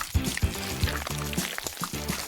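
Liquid pours while ramen is being cooked, a soft pouring and splashing under music with rhythmic beats and a voice chattering over it.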